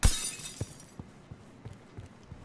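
Glass shatters in The Final Station, a train survival video game, with a loud bright crash at the start followed by scattered tinkling fragments and small impacts fading over the next two seconds.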